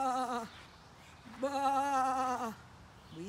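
A voice imitates sheep, giving two drawn-out, wavering bleats with a short pause between them, followed by the start of a third. The sound is clear and close against quiet farm surroundings.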